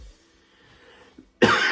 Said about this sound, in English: sorry if I continue to cough during the pod